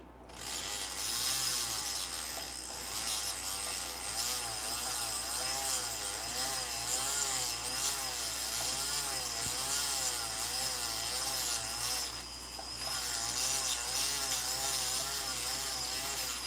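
A rotary tool fitted with a shaped burr grinds and carves fire agate with a continuous, close, buzzing whine that wavers in pitch. There is one brief dip midway, and no talk.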